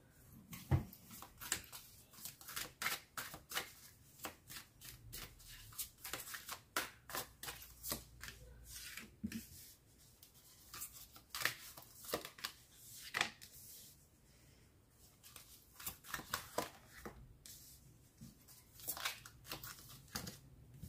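Tarot cards are shuffled repeatedly for a reading, giving bursts of soft riffling and flicking that come and go in irregular clusters, close and fairly quiet, with no talking.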